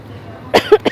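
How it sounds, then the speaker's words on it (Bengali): Three quick coughs from a person with a cold, close and loud, coming in rapid succession after a quiet outdoor background. "আমার কাশি হয়ে গেছে ঠান্ডাতে।"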